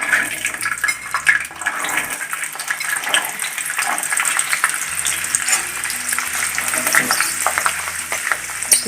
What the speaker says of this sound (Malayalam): ഈ വെള്ളത്തിൻ്റെ അംശമുള്ള വരെ ഇങ്ങനെ ചെറിയ പൊട്ടലൊക്കെ ഉണ്ടാവും